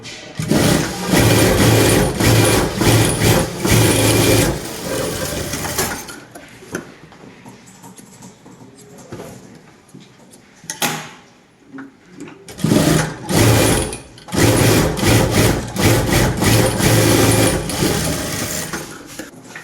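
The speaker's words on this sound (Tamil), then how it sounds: "சைடு வந்து நேராக ஒரு தையல் போட்டுருணும் எக்ஸ்ட்ரா ரெண்டு தையல் போட்டுடலாம்" Sewing machine stitching the side seam of a blouse, running in long loud bursts of rapid mechanical ticking, stopping for several seconds in the middle before starting again, with no talk.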